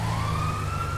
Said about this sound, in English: We've got police cars chasing someone.